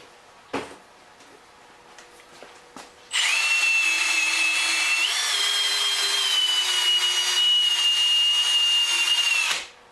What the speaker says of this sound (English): I'm just letting the sandpaper or sanding disc sort of do its thing.